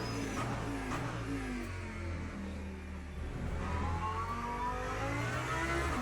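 Race car engine revving around Spa-Francorchamps in Le Mans Ultimate, rising and falling tones climbing through gear changes with tire and wind whir, continuous and loud.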